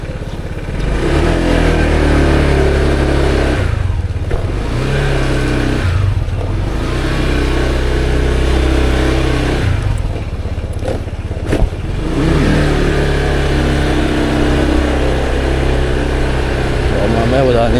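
Honda PCX 160 scooter fitted with an RCB VD Series exhaust, riding on a rough road, its engine droning loudly and steadily for most of the ride, with brief drops in throttle and some clatter.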